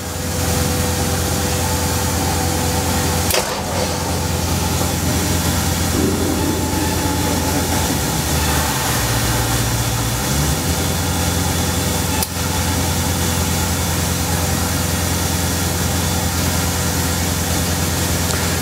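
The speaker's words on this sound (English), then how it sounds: "this particular generator has an automatic glow plug starting system" A generator with an automatic glow plug starting system runs through its starting sequence in winter conditions, with a loud, steady engine drone throughout, a sharp transient and brief dip in the rumble partway through, and no talking.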